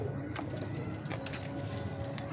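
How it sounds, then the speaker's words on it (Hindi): A sturdy pet pigeon gives soft, low cooing close by, a brief murmuring call under a constant background hum, with no voices. "माशाल्लाह बड़ा तगड़ा कबूतर है ये भी"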